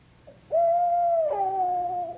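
A man imitates an owl with his natural voice, producing a clear, close two-part hoot: a long steady tone that steps into a lower, wavering note.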